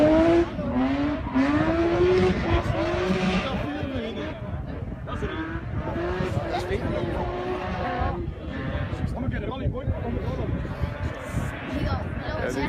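BMW rally car on a Rally Monteburg stage, its engine revving hard and shifting as it approaches, with a commentator talking over the roar.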